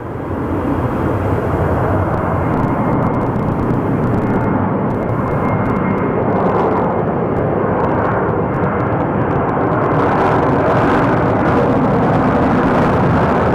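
Airliner pushing back at Phoenix Sky Harbor Airport, a loud steady engine roar and broadband whine filling the whole stretch, with faint higher hiss rising near the end.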